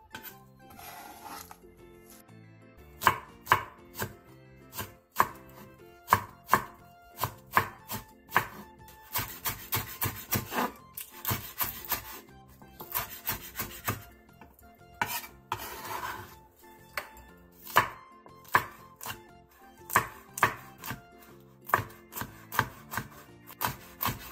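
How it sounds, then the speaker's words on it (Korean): A knife slices a quarter onion into strips and cuts green onion and green and red chili peppers on the bias, giving quick rhythmic chops on a board that run for a long stretch, close and steady, with no talking. "양파 4분의 1개를 채 썰고 대파 2분의 1개, 청양고추 2개, 홍고추 1개는 어슷썰기 해주세요"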